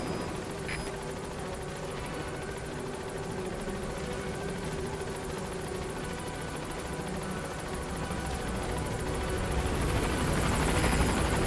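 The Pequod helicopter in Metal Gear Solid V: The Phantom Pain approaches a landing zone with a dense, continuous rotor and engine roar that holds steady and grows slightly louder toward the end.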